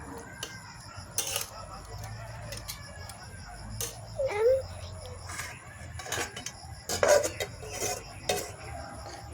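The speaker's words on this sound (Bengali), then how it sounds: "তারপর দিয়ে দিলাম জল, একটু নেড়ে চেড়ে দিয়ে" A spoon stirs a cooking pot of salted water and vegetables, giving scattered faint clinks and scrapes against the metal over a low, steady background hum.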